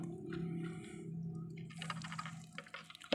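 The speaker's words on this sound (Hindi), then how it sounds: "फिर इसके बैटरी के बीच से जो पानी है वो निकाल लिया" Water trickles and drips out of the cells of a Honda CD 70 motorcycle battery during a repair, quiet and close, turning into a brief burst of uneven splashing toward the end over a faint low hum.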